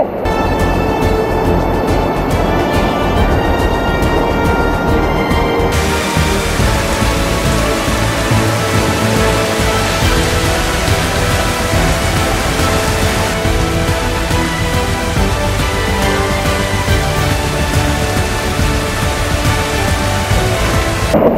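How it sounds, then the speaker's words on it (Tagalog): Heavy rain pours down on a mountain pass between Aningalan and Igtuble, a loud, steady, unbroken downpour filling the whole stretch with no voices. "Ang lakas ng ulan."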